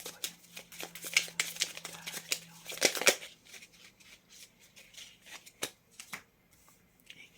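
Tarot cards are shuffled by hand in quick, dense riffling bursts for the first three seconds, followed by scattered slaps and flicks of cards, close and fairly loud with no voices.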